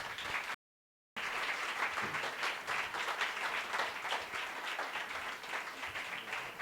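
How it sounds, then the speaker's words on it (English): An audience claps steadily at a community forum at Impact Hub Baltimore. The dense, even applause fills the room, is briefly cut off by a short silent gap, then carries on at a constant level. "we want to give them a round of applause for showing up"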